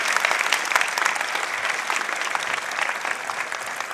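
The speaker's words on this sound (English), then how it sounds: "So a round of applause, please, for Nona Robinson" Audience at a Trent University convocation ceremony in Peterborough gives steady, dense applause that holds evenly throughout, a little distant, with no speech over it.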